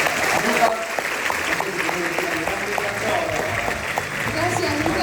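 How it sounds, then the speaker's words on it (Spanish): Conference audience applauds a speaker at an international tarot congress, a continuous crowd clapping under a woman's speech. "Así que le damos un aplauso enorme a Lucas."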